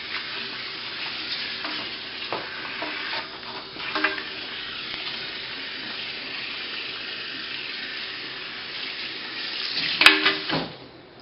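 Water from a salon spray rinses the nape of a woman's long, fine, curly hair during a lasting smoothing treatment: a steady, close hiss with small splashy bumps and a louder burst of spattering near the end, with no voices.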